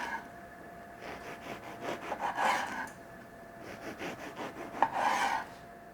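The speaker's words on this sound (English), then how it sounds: "First we're going to cut some nice thick slices." A knife saws through a loaf of bread, cutting thick slices for French toast, heard as two rounds of soft, rhythmic back-and-forth rasping strokes, close and fairly quiet, with a faint crunch of crust.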